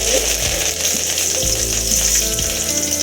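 Steady, loud sizzling of mustard seeds, urad dal and curry leaves frying in hot oil for Tamil pepper kulambu, with a few soft stirring knocks and no voices.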